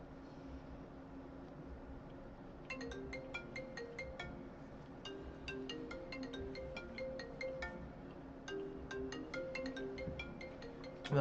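An incoming call sets off a phone ringtone, a bright repeating melodic pattern of short notes that plays on over a low background hum, with no talking.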